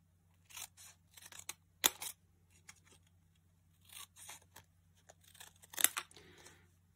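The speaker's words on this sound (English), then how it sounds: "what I'm going to do is cut a triangle shape at the bottom here" Scissors snip through paper to cut triangular bunting flags, several quick sharp cuts in irregular bursts separated by quiet pauses.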